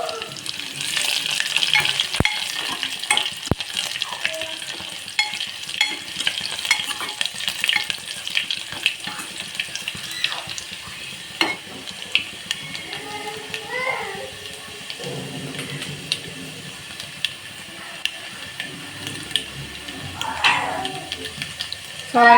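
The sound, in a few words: garlic cloves frying in a pan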